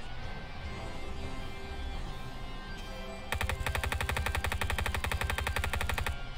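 Machine-gun fire in a World War II tank simulator game, set in the Germany 1939 campaign, breaks out midway as a long, rapid, evenly spaced burst that is loud and close and runs to the end.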